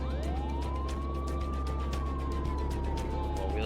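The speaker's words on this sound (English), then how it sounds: "Siren just makes them all dodge out of the way." A video-game police siren wails steadily, rising and sliding in pitch over a constant engine hum, loud and close.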